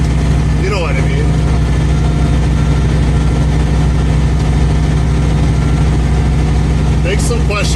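A heavy truck engine running steadily at 1500 RPM while crawling in high reverse at about 5 km/h, a loud continuous low rumble throughout with a couple of brief higher clicks.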